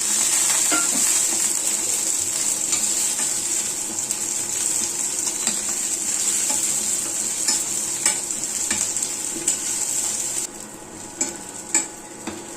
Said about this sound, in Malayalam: ഇനി നമുക്കിതിലേക്ക് മുളക് അങ്ങോട്ട് ചേർത്ത് കൊടുക്കാം